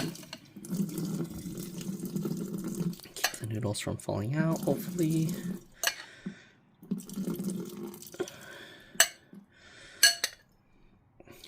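Hot noodle water gushes and splashes into a metal sink in several pours as instant noodles are drained, with clanks of a pot and a person talking between pours.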